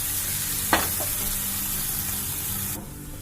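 Tomato masala for a coconut fish curry sizzles steadily in a pan, with one sharp stir scrape near the start before the frying hiss drops off abruptly toward the end.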